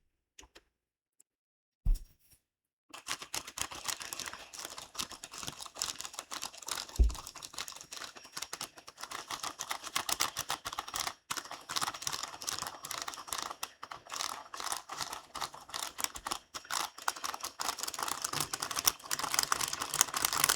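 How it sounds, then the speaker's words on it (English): Steady, dense clicking of keys being pressed, like fast typing, runs close and loud for most of the stretch after a brief quiet opening with a couple of soft knocks. "Every single sound you just heard is from a key."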